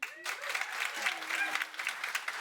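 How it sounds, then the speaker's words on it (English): Audience at a climate school debate applauds steadily with dense, even clapping that sounds moderately distant, and a voice briefly talks over it. "So, round of applause."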